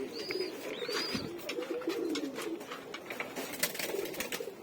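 Chuina pigeons in a backyard breeding loft, soft rolling coos repeating in low, throaty bursts close by, with faint high chirps above and no one speaking.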